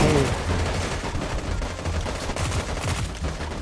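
Rapid gunfire in the mobile shooter game Sausage Man, a dense and loud burst of automatic shots and blasts that runs without a break.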